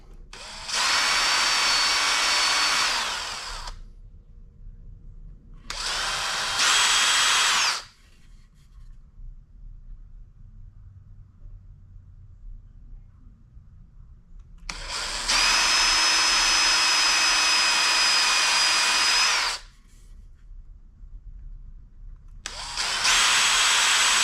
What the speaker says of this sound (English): This wood is old, so I'm going to pre-drill.